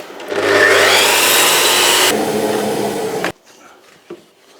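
A Festool Kapex mitre saw cuts through wood pieces: the motor spins up with a loud rising whine and a grinding cut that holds for about three seconds, then stops abruptly, leaving quiet room noise and a faint knock.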